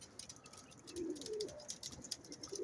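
Soft, throaty cooing of pigeons, a few low rolling calls rising and falling close by, with faint background chatter and rustle.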